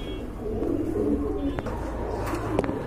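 Pigeons offered for sale coo in short, soft, throaty bursts at close range over a steady low background hum.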